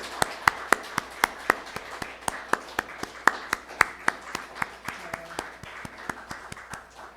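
A church congregation claps in steady rhythm at a Christmas thanksgiving service, marking a flower-gift presentation; sharp, regular hand claps carry clearly across the room and slow slightly toward the end, with faint talk underneath.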